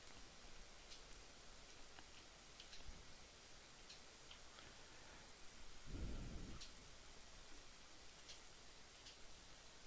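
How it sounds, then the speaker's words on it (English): Steady rain falls throughout with a low thunder rumble near the middle, rendered by the X-Plane 12 flight simulator in a Zibo 737-800 cockpit at night out of Orlando, Florida; faint ticking sits under the constant wash, with no talk. "You hear the rain."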